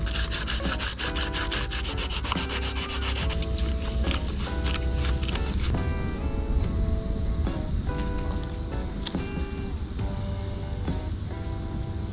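Rough sanding of a surfboard repair done with solar-cure resin, a steady scratchy rubbing that carries on throughout, while music plays loudly underneath.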